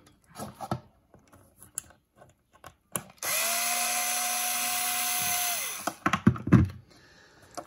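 A power screwdriver whirs for about three seconds while undoing the top cover of a rotating colour lamp, a steady high whine that stops abruptly, framed by close clicks and handling clatter.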